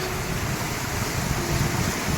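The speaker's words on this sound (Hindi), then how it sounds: "धुआंधार झरना हमको पार करना है" A roaring mountain waterfall being crossed on the Shrikhand Kailas trek, heard as a steady, loud, broadband rush of water with no pauses and no voices.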